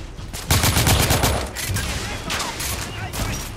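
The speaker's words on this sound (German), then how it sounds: "Ich werde beschossen!" Rapid gunfire in the video game The Order, with dense bursts of shots crackling loudly and almost continuously, heaviest in the first second and then steady volleys to the end.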